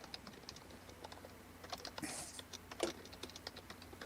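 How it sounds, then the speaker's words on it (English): Soft, rapid keyboard typing patters on steadily for several seconds, close and quiet, with a short rustle in the middle. "I'm typing it out."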